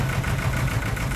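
An old vintage tractor engine idles nearby with a steady, low, throbbing chug, loud and continuous, with no voices over it.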